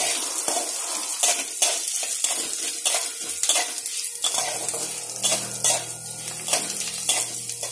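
Oil sizzling in a pan while tomato kulambu is being made, a bright continuous crackle with repeated spoon scrapes and stirs; a low hum joins partway through, and no one speaks.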